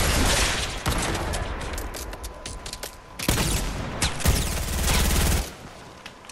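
Gunfire in the Fortnite video game: dense bursts of rapid automatic shots and fusillades, loud and close, with short pauses between volleys and mechanical clicks, no talking.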